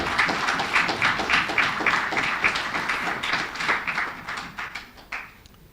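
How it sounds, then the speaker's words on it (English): A crowd claps steadily for a panel of speakers at a Caribbean youth education event, a dense patter of hand claps that holds for several seconds and then thins out and fades. "I think they deserve a round of applause"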